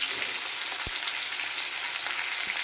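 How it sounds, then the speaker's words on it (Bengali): Potatoes frying in hot oil with chopped onions, a close, steady crackling sizzle with a couple of soft knocks, no talking. "আলুটা একটু ভাজা হবে"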